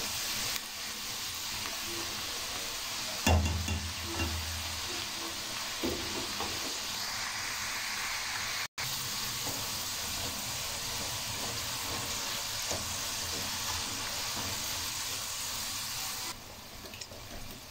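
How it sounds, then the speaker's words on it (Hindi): Potato french fries frying in ghee make a continuous bubbling sizzle, close and steady, with a brief clatter of stirring early on and a short break midway. "दोबारा इनको इसमें घी में शामिल किया जाएगा बिस्मिल्लाह रहमान रहीम ताकि अच्छे तरीके से फ्राई हो सकें"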